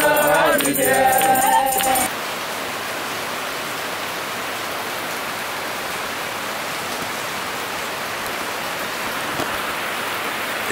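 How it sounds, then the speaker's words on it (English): Steady rain falling in St. Vincent in the Caribbean, a constant even hiss of close, moderately loud downpour, preceded by a couple of seconds of singing. "It's rained every day since I came to St. Vincent."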